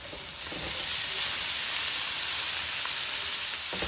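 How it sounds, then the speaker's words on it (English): Minced beef dropped into hot oil with garlic for beef patty filling, giving a loud, even, unbroken hiss of frying that holds steady throughout. "you smell your garlic roasting in the oil, you'll go in with your minced beef"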